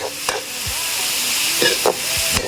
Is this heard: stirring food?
yes